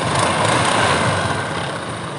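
A 2021 Honda SH Mode scooter engine idles with a loud, steady broadband rumble and hiss, close up and unbroken, with no talk.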